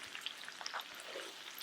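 Onions sauté in hot oil over a high flame for paneer butter masala, giving a faint, steady crackling sizzle with scattered small pops and no voices.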